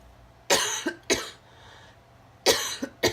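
Two pairs of sharp coughs from someone nearby, each pair a quick double burst, separated by a short quiet pause.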